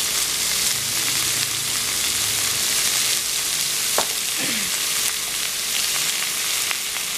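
Steady sizzling of salted vegetables frying in a pan for khichdi, with occasional scraping and clinks of a spoon stirring; no voices.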